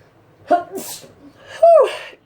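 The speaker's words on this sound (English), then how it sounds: "Ooh, I gotta sneeze, girl." A sneeze with a sharp inhaled build-up, then another loud explosive sneeze about a second later, close to the microphone, with no talking.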